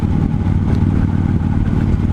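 A 2015 Victory Vegas 8-Ball motorcycle's V-twin engine runs steadily with a loud, deep, continuous rumble close by and no voices.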